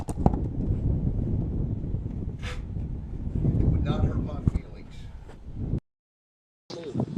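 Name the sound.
strong wind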